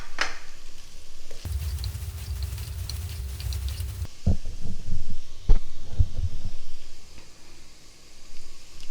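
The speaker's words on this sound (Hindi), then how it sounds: "अब मैं इसमें शिमला मिर्च डालने लगी हूँ।" Green and yellow capsicum tipped into a hot pan for chicken fried rice, starting a steady close sizzle with low rumbling frying, followed by scattered stirring knocks and clatter.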